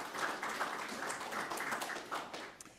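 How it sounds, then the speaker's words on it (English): Audience applause at a Hall of Fame media conference: steady, fairly faint clapping from a seated crowd that holds through the whole stretch, with a few sharper claps standing out. "So, round of applause for those teams."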